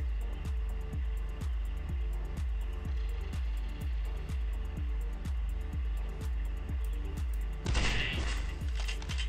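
Gunshots from the hunting video game Deer Hunter Classic, fired in a fast, steady rhythm of about three per second for the whole stretch, loud and close, with a brief burst of hiss near the end.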